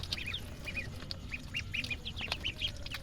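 Ducks pecking at chopped water spinach floating in their drinking water, with repeated soft quacks and chirpy calls through a steady low background rumble, close by.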